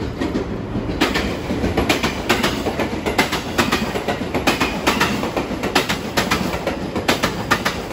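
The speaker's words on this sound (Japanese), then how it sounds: "東海道本線ですので結構いろんな電車が通ります。" A train runs along the Tokaido Main Line close to Takatsuki Station in Japan, its wheels giving a loud, steady clickety-clack over rail joints in a regular rhythm for the whole stretch.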